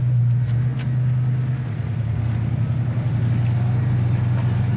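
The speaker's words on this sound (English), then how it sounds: "It's not even warmed up and the idle's still good." A 1968 Ford Mustang coupe engine idling cold, a steady low hum with a faint even pulse, heard from inside the car as it rolls up to a stop sign.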